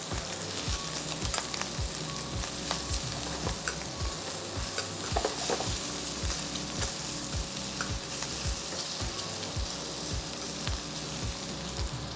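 Spicy shrimp sauté in a hot pan with a continuous bright sizzle, punctuated throughout by regular low thumps of tossing and stirring, close and steady with no voices.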